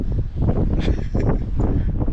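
Gusty wind on a farm buffeting the microphone in low rumbling bursts, rising and falling over a couple of seconds with no speech.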